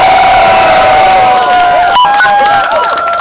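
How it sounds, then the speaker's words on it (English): Outdoor Occupy comedy show crowd cheering and whooping loudly, a dense sustained roar of voices and shouts filling the whole moment. "give yourselves a fucking cheer for doing this"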